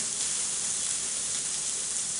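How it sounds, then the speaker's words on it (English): Green beans sautéing and steaming in a hot pan give a steady, close, continuous hiss and sizzle with no pauses, heard alone. "not only are we sauteing it, but at the same time we're also steaming it"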